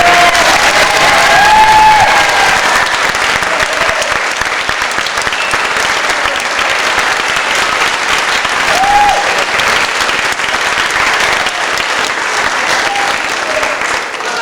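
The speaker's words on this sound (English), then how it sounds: "So let's give a round of applause." An audience at a primary school evening production claps at length, a dense, even wash of applause lasting the whole time, with a few faint voices and whistle-like tones scattered beneath.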